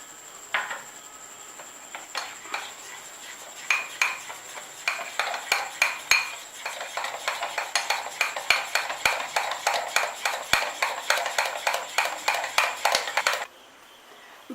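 Gram flour batter for Bengali jackfruit chops being whisked in a bowl: a brisk, steady run of rhythmic clinking and scraping strokes, close and clear, that stops abruptly near the end.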